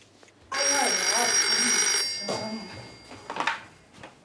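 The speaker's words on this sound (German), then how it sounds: "Emil, Telefon, der Typ von gestern." A telephone rings in one long, steady electronic trill that stops abruptly, followed by a few faint clatters and brief quiet voices nearby, set in a German crime drama scene.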